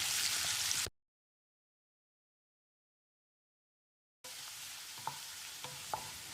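Chopped carrots and beans sizzle and hiss steadily in a hot pan over medium heat, broken by a stretch of silence, then resume with a few light scrapes and taps of stirring.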